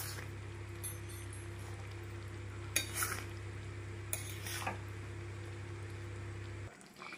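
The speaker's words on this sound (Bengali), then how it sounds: "বারবার নাড়তে হবে, না হয় নিচে লেগে যাবে" Mango pickle with jaggery is stirred in a pan, a soft continuous scraping over a low steady hum, with a few sharp clinks of the spoon against the metal midway.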